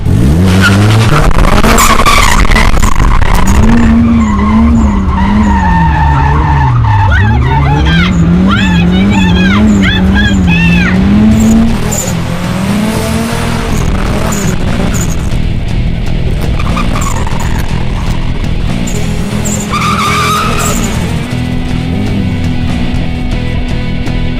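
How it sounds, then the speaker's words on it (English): Car drifting with tires skidding and squealing, a loud wavering screech over a roaring, revving engine that rises and falls continuously, with a voice talking over part of it. "I'm all buckled in and I'm ready to go drifting"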